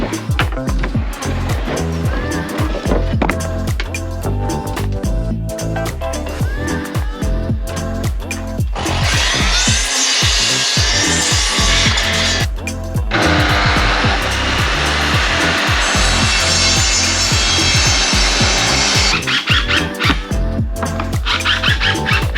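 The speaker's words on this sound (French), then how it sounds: "Je ressors la scie et c'est parti pour la fabrication des portes." A saw cuts recycled wood into cabinet doors for a custom-made kitchen: loud, harsh bursts of cutting, two long stretches broken by knocks and handling noises close by.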